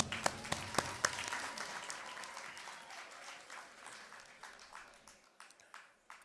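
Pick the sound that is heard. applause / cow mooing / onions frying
applause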